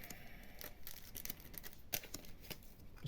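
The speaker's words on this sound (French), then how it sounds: "Je vais les ouvrir avec la paire de ciseaux." Scissors snip through the foil of Japanese Pokémon booster packs, several being opened at once. A string of quiet, irregular crisp snips and crinkles sounds close by in a quiet room.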